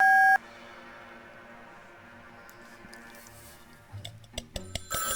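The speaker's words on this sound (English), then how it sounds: "So I'll go ahead and use the phone. 7537." Phone keypad being dialed in the Meteor Mess adventure game, a sharp tone at the start followed by a quiet pause, then a run of short clicks and beeps as the number is punched in.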